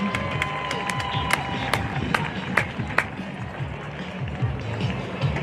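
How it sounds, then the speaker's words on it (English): A crowd at a high school rodeo arena applauds with scattered, moderately distant clapping. Some louder individual claps stand out, and the crowd murmur and arena ambience stay faint underneath. "Just a big round of applause."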